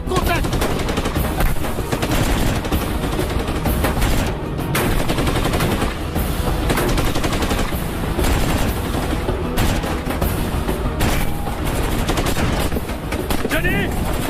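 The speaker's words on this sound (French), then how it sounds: "c'est la mitrailleuse qui nous tire dessus!" Sustained machine-gun fire in a battle scene, dense rapid bursts rolling on continuously at close, loud range with booms mixed in and no pauses.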